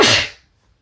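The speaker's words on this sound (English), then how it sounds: "I have to sneeze." A single sharp, loud sneeze close by, bursting out then fading quickly into quiet.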